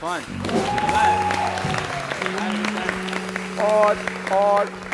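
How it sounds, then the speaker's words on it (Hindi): Studio audience applause on a late-night talk show, a steady wash of clapping running under a bright tonal musical sting and swelling near the end. "भरपूर तालियां होनी चाहिए।"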